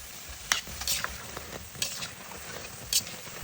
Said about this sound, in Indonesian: Goreng sampai teksturnya itu garing renyah, warnanya berubah jadi kuning kecoklatan